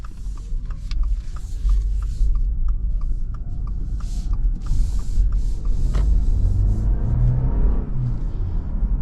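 A 2026 Subaru crossover, either the Outback or the Forester, accelerates as heard from inside the cabin, with a low steady engine and road rumble that gradually rises in pitch, moderately loud and without talk.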